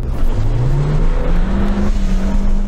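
Suzuki Jimny engine revving hard during an off-road hill climb, a loud, steady roar with pitch rising gradually as the revs climb and hold near the top.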